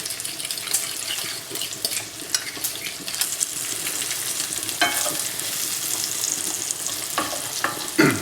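Bite-sized pieces of pancetta frying in a pan for spaghetti carbonara: a lively, crackling sizzle broken by spatula scrapes and stirring clatter, fairly close and busy throughout, with no voice.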